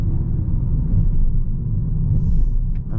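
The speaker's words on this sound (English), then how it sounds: "You can hear the gear is holding onto a lower gear." A Peugeot 208 engine holding a lower gear on city roads, a steady low rumbling drone heard from inside the cabin, even and continuous.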